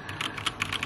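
Rapid typing on an N Pro 2 computer keyboard, a steady run of close, crisp key clicks with an uneven rhythm, heard alone without any voices.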